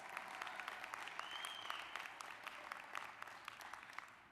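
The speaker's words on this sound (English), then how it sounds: "Give him a round of applause." Sustained audience applause fills a convention hall, dense and steady clapping from a large crowd throughout, with no speech over it.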